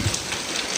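Rain falling steadily outside a house, a dense continuous hiss with no break, moderately loud and even throughout.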